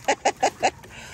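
Four short clucking calls in quick rhythmic succession, close and clear, followed by a faint fifth cluck.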